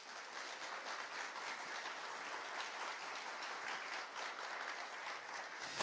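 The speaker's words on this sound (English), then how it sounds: "Let's give them all a big round of applause." An audience at a North Texas entrepreneurship event gives the sponsors a sustained round of applause. Many hands clap evenly and fairly softly, heard from some distance, ending in a sudden loud burst at the close.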